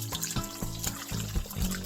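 Hot, not scalding water is poured over dried material being rehydrated for planting raspberries, a close, steady trickling and splashing pour lasting a couple of seconds.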